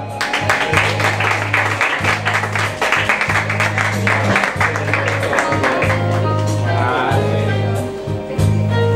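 Audience applause for a singer at an I Sing gala, heard beneath stage music with a pulsing low beat and sung or spoken voices layered on top, continuous throughout.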